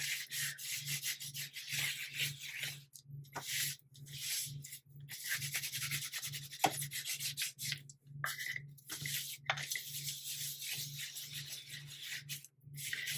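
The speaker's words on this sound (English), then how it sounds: "And I am rubbing harder now just to get some of this in there." Distress oxide ink rubbed into a textured handmade journal cover with steady, scratchy back-and-forth strokes, close and fairly loud, pausing briefly between passes over a low constant hum.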